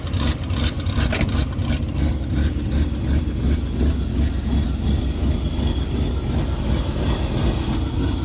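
A 1988 Chevy V30 one-ton dually truck engine with a throttle body idles continuously with a low, uneven loping rumble that rises and falls slightly, close and steady throughout.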